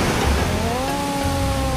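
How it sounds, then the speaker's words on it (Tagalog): Ocean waves break at Isla Malaya in Dingalan, Aurora, making a steady, loud, broadband roar of surf throughout, with faint voices underneath. "Lakas ng alon."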